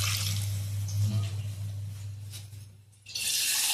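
Water streams into a cooking pot at home, a steady, fairly quiet pouring flow that cuts out briefly near the end and then resumes with a brighter splash.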